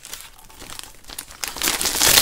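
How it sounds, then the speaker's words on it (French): Gift wrapping paper crinkles and tears close by as a Secret Santa present is opened, a run of rustles and rips that grows louder and denser toward the end. "Ça me fait mal au cœur de déchirer ça, c'est incroyable."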